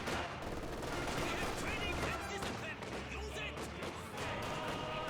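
Gunfire in a Company of Heroes 2 battle rattles in dense, overlapping bursts, machine-gun fire and scattered shots filling the whole stretch over low rumbles and battle noise.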